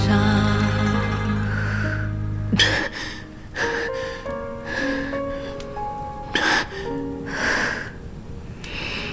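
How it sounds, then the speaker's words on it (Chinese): Several rough, breathy coughs come in short bursts after a stretch of soft music. They are spaced irregularly and close by. "这咳嗽声发生平滑，看来是恢复一些了"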